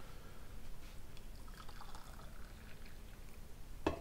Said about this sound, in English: Let's give it a pour.